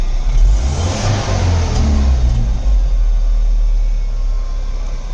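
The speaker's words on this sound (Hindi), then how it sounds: "तो देख सकते हो रेस भी ले रही है गाड़ी एकदम ओके।" Mahindra BS6 CNG pickup engine revs up hard and holds a loud, close mid-pitched roar, with a couple of throttle blips before settling into a sustained high-idle drone.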